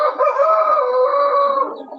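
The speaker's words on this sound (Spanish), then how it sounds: "ahí está que suena el gallo, no sé de quién será el gallo que está sonando" A rooster crows loudly over a participant's open microphone on a group call, one long drawn-out crow lasting about two seconds, close and clear with no talk.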